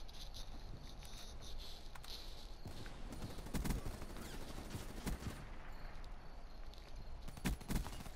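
Submachine gun fire in Black Ops 3 comes as scattered, fairly distant rattling bursts and sharp cracks over a constant background of battle noise.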